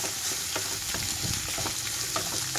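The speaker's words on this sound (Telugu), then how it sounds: "లో ఫ్లేమ్ మీద వేయించుకుంటేనే చక్కగా వేగిపోతాయి ఈ ముక్కలన్నీ కూడా." Bitter gourd (kakarakaya) pieces fry in a pan with turmeric over low flame, giving a steady close sizzle with small stirring clicks and no voices.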